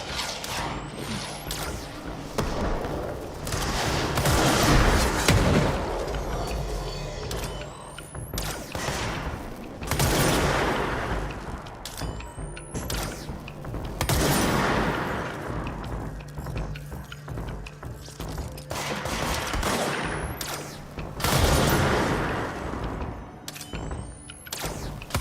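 Gunfire from the video game Control as the player shoots at monsters, with repeated bursts of shots and booming impacts over a dense, continuous layer of game noise and music.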